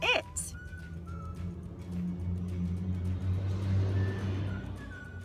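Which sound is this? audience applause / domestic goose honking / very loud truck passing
very loud truck passing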